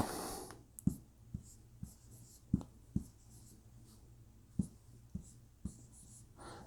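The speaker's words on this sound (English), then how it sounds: "So let me write all this down and take care of this." Marker strokes squeak and tap across a prediction board for week 13 college football picks, a steady series of short, sharp strokes with quiet pauses between them and no talking.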